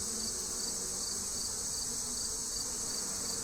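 Honeybees on a brood frame during a hive inspection give a steady close buzz, overlaid by a constant high-pitched insect trill that could be crickets.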